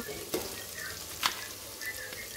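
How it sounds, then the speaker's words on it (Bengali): Onion paste and ginger-garlic paste frying in oil in a pan for chicken biryani, a soft steady sizzle with a few brief stirring scrapes, close and fairly quiet. "এখন পেঁয়াজ বাটাটা দিব, আদা রসুন বাটা দিব"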